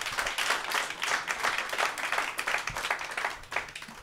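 An audience at a Romanian stand-up comedy show claps in a dense, sustained burst of applause, fairly distant and even, with no voices over it.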